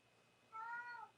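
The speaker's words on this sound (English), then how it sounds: "He's just meowing now." A house cat meows once in a drawn-out, rising-and-falling call, close by and moderately loud against a quiet room, with no one talking.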